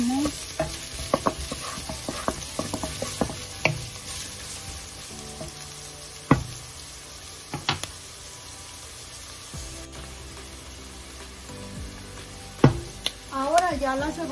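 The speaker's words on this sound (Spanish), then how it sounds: "Ahora ya tengo el aceite caliente, le voy a agregar la cebolla." Onion sizzles in hot oil in a pan while it is stirred, giving a soft steady frying hiss broken by repeated sharp utensil scrapes and clinks, close up with no talking.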